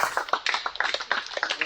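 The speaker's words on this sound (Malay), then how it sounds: "bagilah satu tepukan gemuruh sebagai tanda penghargaan dan terima kasih" A small audience at a gathering gives a short round of clapping, quick irregular hand claps at moderate volume with no talk over them.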